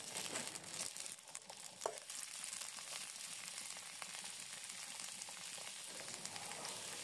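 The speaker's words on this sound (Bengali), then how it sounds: "এবার পেঁয়াজ কলি কুচিগুলোকেও খুব ভালো মতো আলুর সাথে ভেজে নিতে হবে।" Potatoes and chopped spring onions fry in a pan with a steady soft crackling sizzle and occasional stirring scrapes, heard alone at low level.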